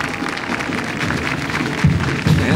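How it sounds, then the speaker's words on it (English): Crowd applause along an inauguration parade route for President Reagan at EPCOT Center, a steady wash of clapping with a few louder bursts near the end. "And some of the applause, people showing how well they like this parade this afternoon"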